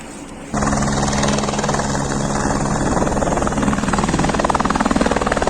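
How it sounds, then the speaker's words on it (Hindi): Helicopters landing at Kedarnath beside the mountain temple among glaciers, a steady loud rotor thrum with low beating chop that holds throughout after a sudden start, close by and continuous. "यहाँ पर हेलीकॉप्टर उतर रहे हैं"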